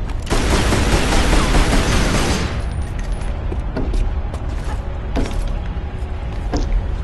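Enemy gunfire in Tomb Raider Anniversary: a dense burst of rapid shots crackles loudly for a couple of seconds, then thins to scattered sharp shots and clicks.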